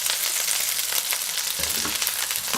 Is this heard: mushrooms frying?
yes